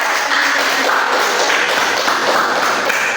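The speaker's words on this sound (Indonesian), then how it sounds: "beri tepuk tangan dulu" A classroom audience at a micro-teaching practice applauds with steady, dense clapping that holds at an even level throughout.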